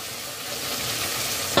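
Fried cauliflower sizzles steadily in a pan with spices as it is stirred, a close, continuous hissing fry with no speech.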